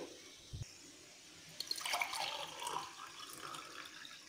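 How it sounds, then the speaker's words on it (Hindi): Warm water is poured into a glass for an apple and cinnamon detox drink: a faint trickling, splashing flow that begins partway through and continues quietly to the end. "सबसे पहले हम इसमें पानी डालेंगे"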